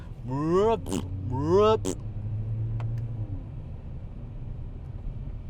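A Mercedes CLA45 AMG drives past, its engine note rising in two quick revving surges before settling into a fading rumble as the car moves away.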